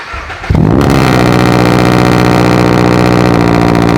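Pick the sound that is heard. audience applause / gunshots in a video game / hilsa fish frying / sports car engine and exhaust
sports car engine and exhaust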